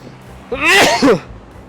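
A single loud sneeze, sharp and close, with a quick inhaled buildup and forceful burst, surrounded by quiet room tone.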